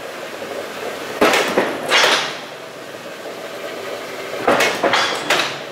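A Pexto Model 14 six-foot, 14-gauge manual metal shear is tripped, giving loud, close metallic clunks and slams in two separate pairs with a steady hum between them.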